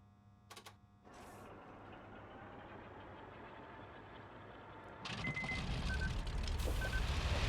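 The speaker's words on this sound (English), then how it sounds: "Starting the engine." Aircraft engine in the IL-2 Sturmovik flight combat game, turning over after a couple of clicks, then settling into a steady droning idle that grows louder and rougher near the end, alone without talk.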